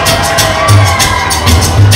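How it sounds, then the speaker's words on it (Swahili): Guests at a Tanzanian district commissioner's wedding celebration applaud and cheer in a loud, dense burst of crowd noise that runs without a break. "Mheshimiwa Changona, makofi mengi kwa ajili yake."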